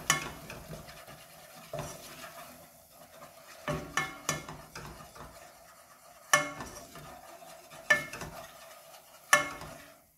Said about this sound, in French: Je vais verser par petit peu, tout en remuant.